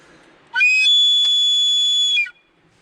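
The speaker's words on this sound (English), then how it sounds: "hard flow of air gets it like a whistle sound" A handmade whistle is blown with a hard flow of air, giving a single piercing, steady high tone. It lasts nearly two seconds, close and loud, with sharp onset and cutoff against near silence.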